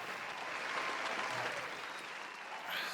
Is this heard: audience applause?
yes